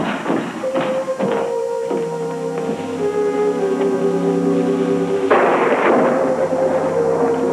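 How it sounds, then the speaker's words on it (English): Thunder during a storm ending a drought, a loud, long rumbling roll with a sharp crack near the end. Sustained tones and music-like layers run alongside it. "Thunder and lightning."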